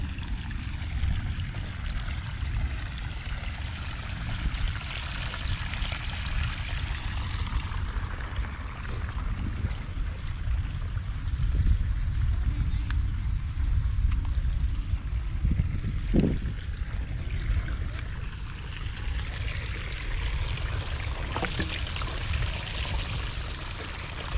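Rainwater flows and pours during a thunderstorm, making a continuous, rushing wash with constant low rumble that stays fairly loud for the whole stretch, and no voices are heard.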